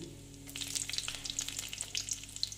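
Garlic sizzles in a little oil in a pan with dried red chillies and nigella seeds, a soft, steady crackle with scattered pops, close but fairly quiet and with no talking.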